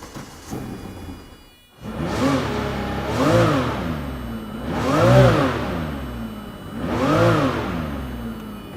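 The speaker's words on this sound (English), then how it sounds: "Can I right now ask you about cold start, and we will hear this amazing engine." Ferrari F50 with a 4.7-liter V12, 1995, cold-starting after a brief crank, then loud close revs rising and falling in three or four strong swells with a steady idle between.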